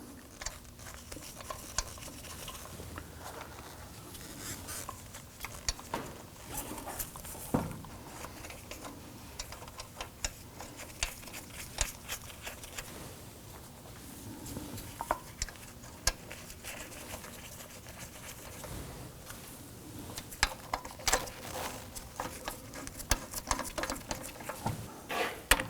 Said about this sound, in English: Ideally, you want to go ahead and get all of the lug nuts started by hand first